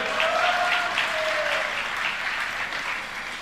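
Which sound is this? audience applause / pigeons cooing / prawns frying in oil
audience applause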